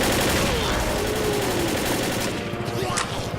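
Automatic weapons fire in the zombie shooter Left 4 Dead, a dense, continuous rattle of rapid gunshots blanketing the whole moment at close range.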